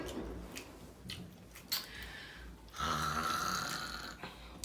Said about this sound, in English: Let me finish chewing this in my mouth.